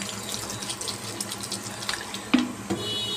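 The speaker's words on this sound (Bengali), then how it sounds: "জল অ্যাড করে দেবো।" Water runs into a cooking pot, a steady close splashing pour with a few clinks against the vessel.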